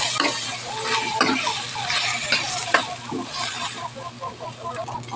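Shrimp paste sautéed with plenty of tomatoes sizzles steadily in a pan, with a spoon repeatedly scraping and clacking against the metal in an irregular stirring rhythm, close and fairly loud.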